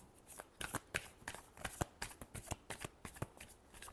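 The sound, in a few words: shuffling tarot cards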